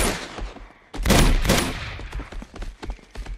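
Rapid bursts of gunfire from a firefight in the action video game Uncharted 2: Among Thieves, loud and close, with dense overlapping shots and a sharp surge about a second in.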